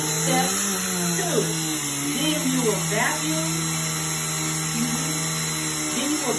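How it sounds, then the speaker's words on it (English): Upright household vacuum cleaner running on a room floor, a steady whining motor drone with a constant hum, its pitch wavering slightly as it moves, holding at moderate loudness for the whole stretch. "after you plug in the vacuum, you're going to turn on the vacuum"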